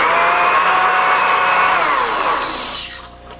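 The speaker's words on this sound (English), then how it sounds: "Okay, so you have your peas in the blender." A kitchen blender whirs steadily at high speed, pureeing canned cooked peas into baby food, its motor pitch drifting before winding down near the end with no talking over it.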